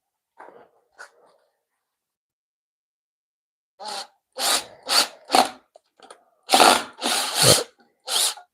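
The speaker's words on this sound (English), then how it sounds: "we're gonna run that drill into the board that we're screwing into" A power drill fires in a series of short, loud whirring bursts after a quiet pause, each spin starting and stopping abruptly, driving into a board in a woodworking shop.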